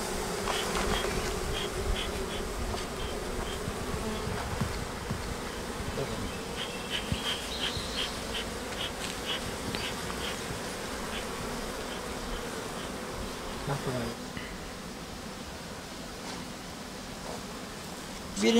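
Honeybees at an apiary make a steady, dense hum that continues throughout, close and even in level, with occasional faint rustles and individual bees passing nearer.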